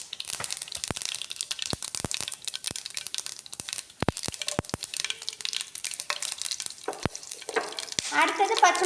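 Mustard seeds pop and sizzle in hot oil while cabbage pepper poriyal is stir-fried, with a steady frying hiss broken by sharp scattered crackles and spoon scrapes, close and moderately loud, with no talking.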